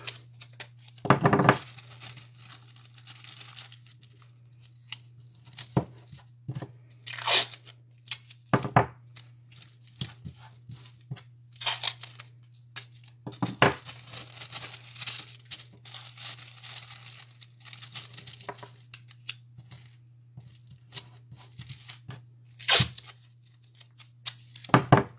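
Masking tape torn in short crinkly rips and pressed down tight onto a candle, several brief crackling bursts spread across a quiet stretch over a low steady hum.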